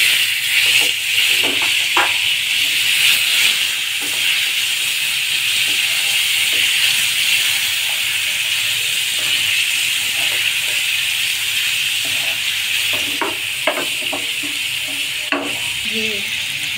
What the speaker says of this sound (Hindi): हम ऑयल डालेंगे अपने फ्राई पैन में और चिकन फ्राई करेंगे।